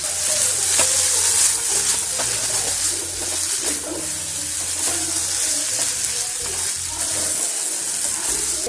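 Chopped ivy gourd fries in a thick-bottomed covered pan, giving a steady close sizzle with soft crackles and low bubbling throughout.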